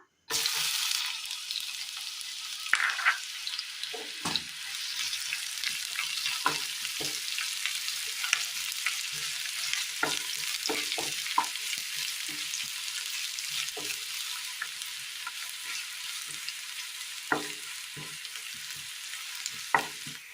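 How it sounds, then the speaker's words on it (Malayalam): Chopped onions crackle and hiss as they fry in oil in a pan, a steady close sizzle lasting throughout with scattered sharp pops and occasional stirring scrapes, no voices. "എണ്ണയിലേക്ക് അരിഞ്ഞു വെച്ചിരിക്കുന്ന സബോള ഇട്ട് കൊടുക്കാം."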